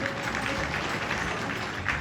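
At a school entrance festival, a crowd claps steadily in a dense, even wash of applause with faint voices mixed in.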